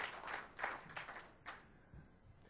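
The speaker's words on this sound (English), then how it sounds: "Give him a hearty round of applause." Audience applause at a Tech·Ed North America 2011 conference session as a presenter comes up on stage, a burst of quiet, distant clapping that fades within a couple of seconds.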